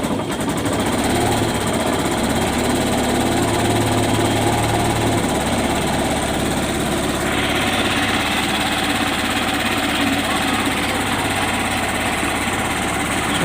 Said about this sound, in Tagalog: maganda ang tunog niya guys, at pagka linaw ng tunog niya at malamig yung makina guys, hindi nag-overheat